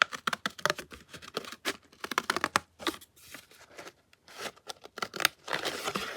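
Scissors snip along a paper Christmas card image, cutting between printed trees in quick irregular bursts of close, crisp clicks and paper rustle with brief pauses, no voices.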